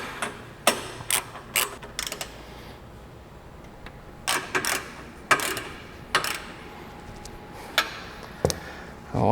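A ratchet wrench tightens the rear bolts on a Polaris RZR XP Pro front bumper. Sharp clicking strokes come in short separate bursts with quiet gaps between them, close by, and no one speaks.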